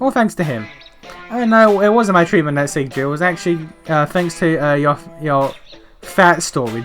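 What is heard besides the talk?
None of the usual background noises is heard.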